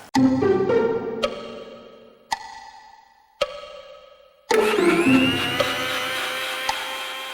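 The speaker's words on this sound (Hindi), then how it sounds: "मिक्सी।" An electric mixer grinder making cold coffee whirs in short bursts, stopping and restarting several times before settling into a loud, steady grinding roar.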